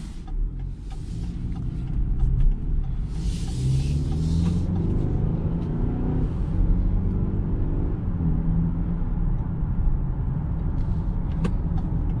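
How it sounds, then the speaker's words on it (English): Cabin of a 2021 BMW X3 on the road: a steady low engine hum and tyre rumble throughout, with a brief rise in engine note early on, heard from inside the car. "driving this BMW X3"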